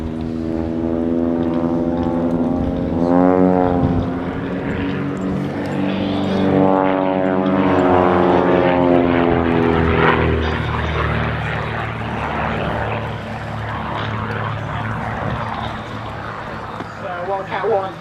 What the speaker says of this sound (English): Wildcat 2 on full power now, trying to catch up with Wildcat 1 on the left hand side.